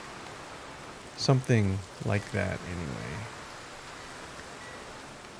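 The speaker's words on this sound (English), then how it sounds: "let's get this rain out of the picture" Steady rain falls in the city-building game Foundation, a soft, constant hiss that runs through the whole stretch while someone talks briefly over it.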